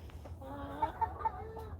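Chickens and a young rooster clucking softly in a backyard garden flock, a few brief rising calls standing out over low steady background noise.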